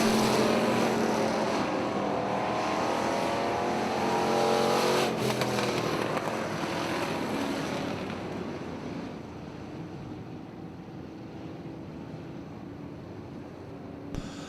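Pure stock race cars roar past together on the Lake Ozark Speedway oval, a loud continuous engine drone that swells and fades as the pack sweeps by, with no talk over it.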